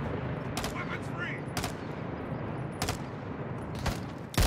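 Gunfire in the video game Call of Duty: Modern Warfare II: several loud, sharp shots spaced irregularly over a dense, constant battle din, with a final close blast at the end.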